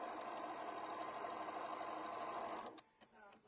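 Embroidery sewing machine stitching a straight line on a holiday table runner, a steady mechanical whir running loud and continuous for most of the clip before stopping abruptly, followed by a few faint clicks.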